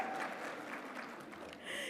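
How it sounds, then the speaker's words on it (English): Conference audience applause at a healthcare event, a brief, faint, even patter of clapping from a distant crowd, with no one speaking over it. "Can I get a round of applause from all of those women who are trying to get them there?"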